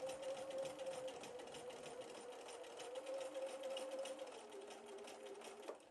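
A sewing machine runs a quick stitch to hold down fabric edges on a cross stitch portfolio bag, a steady fast whirring hum that continues close and unbroken throughout.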